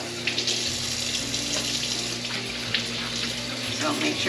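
Tap water runs steadily over fresh corn husks in a kitchen sink, a continuous close splashing hiss with slight pump hum, no speech.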